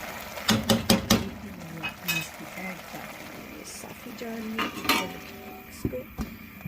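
Metal clatter of a lid being set onto a pot of half-cooked chicken pulao, with several sharp clanks and scrapes up close, a brief voice now and then between the knocks.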